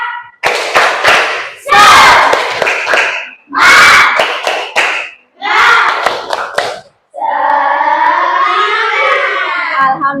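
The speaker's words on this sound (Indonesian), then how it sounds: "yuk kita tepuk semangat" Classroom children perform a rhythmic clapping chant in loud, sharp bursts of claps and shouted syllables separated by short pauses, finishing with a sustained chorus of young voices shouting together.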